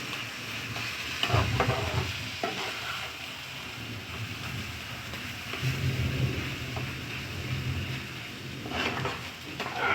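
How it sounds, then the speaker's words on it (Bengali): Potol kofta mixture fries in a pan with a soft, continuous hiss, while a spoon stirs and scrapes it in uneven bursts nearby. "এক 2 মিনিট এটা নেড়ে নিতে হবে।"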